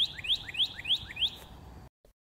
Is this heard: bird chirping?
yes